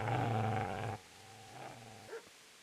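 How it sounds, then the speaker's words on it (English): A dog growls low and rumbling in the video game Kingdom Come: Deliverance, a sustained snarl that cuts off abruptly, followed by a quieter growl and a brief whimpering yelp, fairly faint overall. "Get away, you mutt!"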